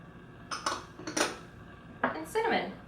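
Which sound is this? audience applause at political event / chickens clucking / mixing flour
mixing flour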